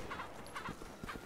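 Chickens clucking in the video game Resident Evil 6, giving short repeated bursts of clucks at a steady rhythm, fairly quiet under faint background noise.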